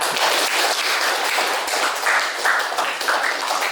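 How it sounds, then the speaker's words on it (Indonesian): A classroom of students applauds a classmate named Ridwan, producing a loud, dense, continuous burst of clapping that stays even from start to finish with no talk over it. "Tepuk tangan dulu untuk Ridwan"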